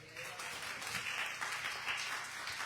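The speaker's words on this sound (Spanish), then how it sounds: "Un aplauso al Señor." Church congregation applauding during a service, a steady, moderately distant wash of many hands clapping together for a few seconds.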